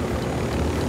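An escort helicopter in Ghost Recon Wildlands gives a loud, steady rotor and engine drone, close and unbroken for under a second, with no voices.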